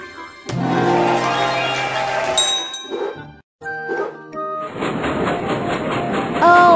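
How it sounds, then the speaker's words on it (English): Cartoon train sound effect in a toddler circus video game, a loud rumbling chug with clattering and bright chiming jingles, cut by a short gap partway through, close and without talk. "Oh, Monkey Abby is here with her train."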